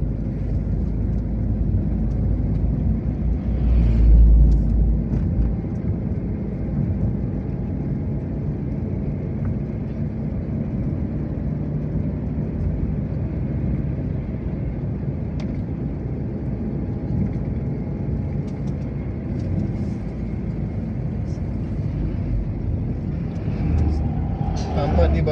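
Steady rumble of heavy, dense traffic on the Jalan Lintas Timur at night, heard from inside a moving vehicle, with a constant low drone of engines and passing cars throughout; a voice talks intermittently over it.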